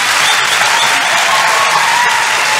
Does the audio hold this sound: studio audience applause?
yes